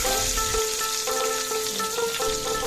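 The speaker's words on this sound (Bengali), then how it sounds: "ফোড়নটা একটু ভেজে নেব তেলের মধ্যে।" Whole cumin seeds fry in hot oil, a steady loud close sizzle with crackling spatter throughout, a few soft stirring scrapes within it, no talk.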